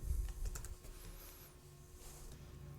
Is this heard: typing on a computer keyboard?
yes